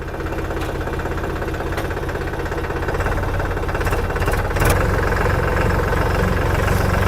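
A tractor's diesel engine idles steadily after reversing, with a loud, close, even low chugging throb that grows slightly louder partway through, and no talking over it.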